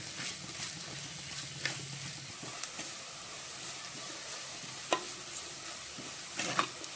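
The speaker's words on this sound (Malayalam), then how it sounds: "അത് ഇഞ്ചിയും കറിവേപ്പിലയും ഇട്ട് കൊടുത്തിട്ടുണ്ട്. അത് നല്ലപോലെ ബ്രൗൺ കളറിൽ വറുത്തെടുക്കാം." Ginger and curry leaves fry in oil in a clay pot, a soft continuous sizzle with occasional scraping clicks of stirring, close and fairly quiet.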